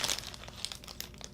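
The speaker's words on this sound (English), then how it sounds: "There's going to be crinkling." Plastic packaging holding knitting stitch markers crinkles close and continuously for a brief moment, with no talk.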